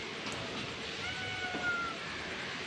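A cat meows in a home kitchen where fish has just been bought, giving a drawn-out, fairly faint cry against a steady background hiss.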